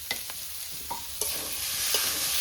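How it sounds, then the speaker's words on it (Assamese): Ginger, garlic and cumin fry in a pan: a steady hiss of sizzling oil with a few soft stirring scrapes and taps near the start, growing slightly louder and fuller toward the end. "এইটো আদা, আৰু ইফালে যাব নহৰু গ'ল। এক লগত জিৰাও দি দিম। চব ফ্ৰাই কৰি ল'ম।"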